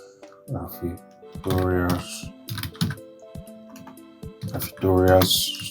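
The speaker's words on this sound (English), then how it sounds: "let's type in our test" Quick bursts of key clicks on a computer keyboard come in short runs, close by, while a person talks intermittently over the typing.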